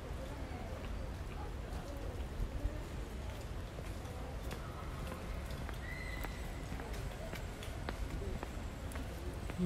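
Rain falls steadily in Inokashira Park, a soft continuous patter with scattered drips close by, and faint voices in the background.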